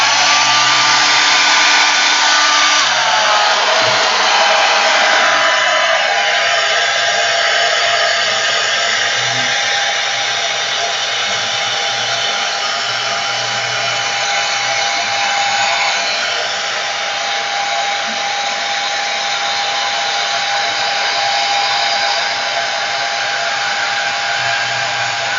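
A hair dryer blows over marker art on Yupo paper, a loud, steady, close broadband whoosh with a constant motor whine that runs unbroken for the whole stretch, no voices over it.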